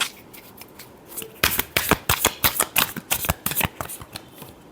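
Tarot cards shuffled by hand: soft handling, then a rapid run of crisp riffling bursts in a quick uneven rhythm, close and clear.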